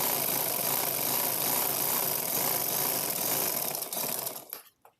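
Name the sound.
sewing machine stitching the last seam of a kameez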